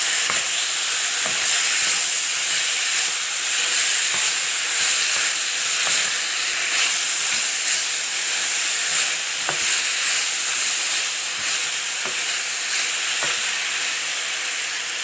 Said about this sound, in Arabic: هنبدأ نرجع تاني بالفراخ ونقلب مع الخضار